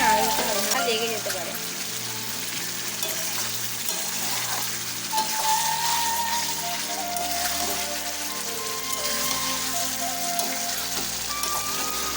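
Mutton curry sautéing in a pan, a steady broadband sizzle running throughout beneath louder background music.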